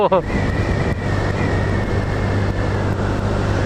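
A motorbike at full throttle climbs a steep road up Mount Batur in Bali in the rain, its engine holding a steady, strained drone under wind rush, with a brief voice at the very start.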